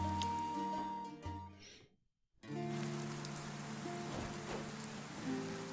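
Rain patters continuously in the video game Dead in Vinland, a dense hiss of drops that cuts out to near silence for a moment midway, then resumes just as loud.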